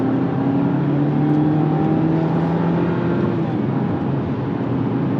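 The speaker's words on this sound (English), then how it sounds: "It feels like it's not powerful, and then all of a sudden, bam, it kicks into gear." Engine of a 2024 Jeep Compass Latitude 4x4 accelerating, a steady loud drone whose pitch climbs and shifts as it gathers speed, heard up close throughout.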